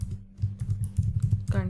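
Someone types code on a computer keyboard, with quick, irregular key clicks close to the microphone over a low steady hum.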